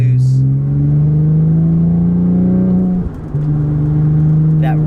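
A modified Porsche 911 Turbo 997 twin-turbo engine revs loudly through its exhaust, holding a steady rising drone before a sharp blip and drop, then settling back to a strong, even idle-like tone.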